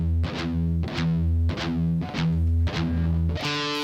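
Heavily distorted electric guitar chugs palm-muted pedal tones, with sliding notes on the fifth string. Loud, steady rhythmic riff phrases repeat about every half second, with no voices.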